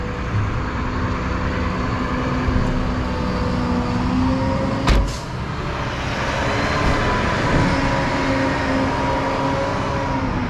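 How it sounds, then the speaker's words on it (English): A truck rumbles by on a nearby road, a low steady roadway drone that builds gradually with a brief sharp knock partway through and lingers under the background. "Truck went by again."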